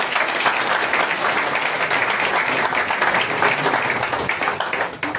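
An audience at a party's 31st anniversary event breaks into sustained applause, a dense, even wash of many hands clapping with no speech over it.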